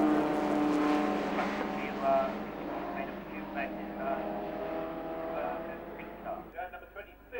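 A Peugeot 106 race car in a sports saloon championship at Oulton Park passes with a rising then fading engine note, while a circuit commentator talks continuously over it.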